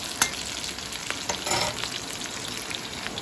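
Garlic and onions saute in a pan for lomi, a dense continuous hiss of frying with a few light stirring scrapes and taps, close and steady.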